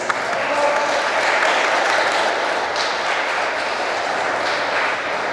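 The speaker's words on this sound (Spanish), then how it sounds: "Vamos a darles a todos ellos un fuerte aplauso." A congregation at a quinceañera mass in a church in San Agustín Oapan claps together in steady, sustained applause that fills the space evenly for several seconds, with no voices standing out.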